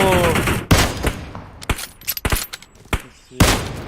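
Gunfire in the mobile battle royale game PUBG Mobile: several loud, sharp shots and bursts, spaced irregularly, with a voice briefly under the firing.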